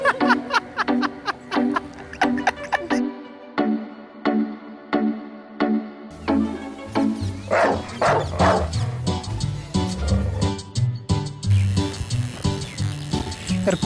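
A prank recording of fake dog barking plays in repeated sharp bursts, followed by people chuckling and laughing nearby, with some talk mixed in.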